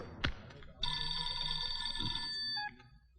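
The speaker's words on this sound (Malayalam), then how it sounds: "Sir phone." An office telephone rings with a steady electronic trill that lasts a couple of seconds. It sounds moderately close, and faint background noise and a short knock come just before it.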